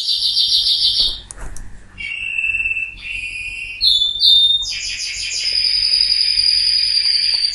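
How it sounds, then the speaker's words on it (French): Several birds chirp and trill close by in bright, high-pitched bursts, one call following another without pause. "Écoute le bruit des oiseaux, tu entends le bruit des oiseaux?"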